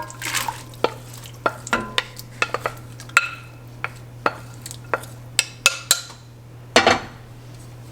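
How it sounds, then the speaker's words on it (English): Loaded baked potato soup with milk, heavy cream and potatoes stirred in a pot: a series of distinct spoon knocks and scrapes against the pot over a low hum, with no talking. "Give this a good stir."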